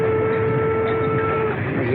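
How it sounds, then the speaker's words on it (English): A steam train in a 1946 Western film setting approaches, giving a loud, continuous rumble with a sustained tonal whine on top that stays steady throughout. "Don't that train make enough noise?"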